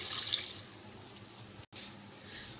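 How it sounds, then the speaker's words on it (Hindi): About two glasses of water poured into a cooking pot with onion for beef yakhni pulao, a splashing pour at first that settles into a steady softer trickle, near and alone. "इसमें ऐड कर रही हूँ मैं 2 गिलास के करीब पानी"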